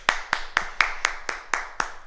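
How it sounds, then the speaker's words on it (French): A karate class claps in steady unison, eight sharp, evenly spaced claps ringing out close and clear with no talking. "On s'applaudit, bravo!"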